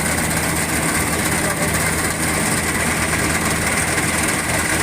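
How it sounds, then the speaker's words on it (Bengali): A modern paddy harvesting machine cutting rice runs with a loud, dense, continuous engine drone and mechanical rattle, close by, while someone talks over it. "একটা আধুনিক ধান কাটার মেশিন যেটা আসলে আমাদের"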